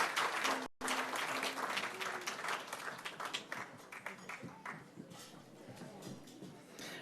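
Audience applause at a parliament house celebration, steady sustained clapping from a crowd that gradually thins and fades over several seconds.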